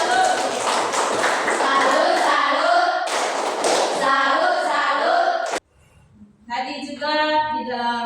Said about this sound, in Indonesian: Maka kita berikan tepuk salut.